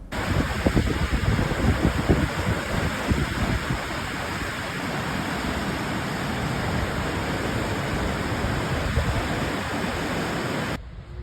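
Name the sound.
waterfalls and geysers in Yellowstone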